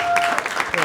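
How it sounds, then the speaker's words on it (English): Wedding guests applauding the father of the bride during the speeches, scattered clapping that comes in uneven bursts while a voice talks over it near the start. "You get a round of applause, would be nice as well."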